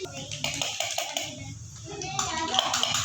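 A room of preschool children claps together for a classmate, a scattered patter of small hands mixed with chattering kids' voices throughout.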